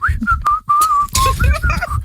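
Someone whistles a bright tune, several sustained notes and short chirps in a row, with soft background noise underneath.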